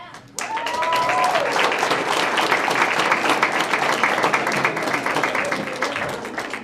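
Sustained audience applause at an organization event after a name is announced, a steady wash of many hands clapping close by that starts abruptly and holds for several seconds, with a brief voice near the start.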